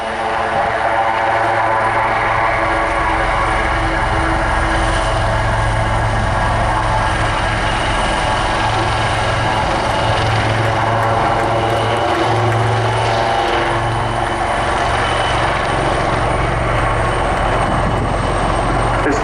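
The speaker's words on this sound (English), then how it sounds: "Only about one rotor span between the two Wildcats now" Two Westland Wildcat helicopters flying in close formation at an air display, a loud, steady rotor and engine roar held throughout, with faint commentary underneath.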